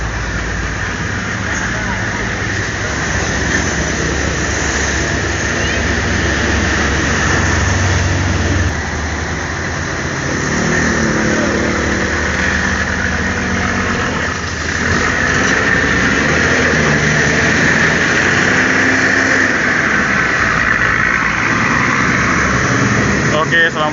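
A Sipirok Nauli intercity bus rumbles steadily as it departs at night, its engine drone low and continuous beneath ongoing talk near the vehicle.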